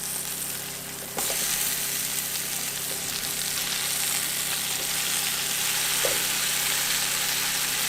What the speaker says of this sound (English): Eric's got the onions roasting